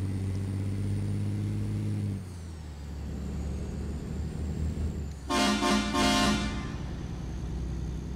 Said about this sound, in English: Got us some train horns.